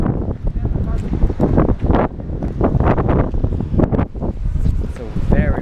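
Strong wind buffeting the microphone near the water by a historic pool house site in San Francisco, gusting loudly and continuously under a person talking.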